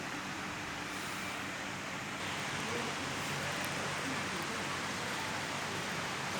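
Summer rain in Ankara in August falls as a dense, steady hiss of drops on the street, mixed with faint passing traffic in the background, continuous and fairly loud throughout.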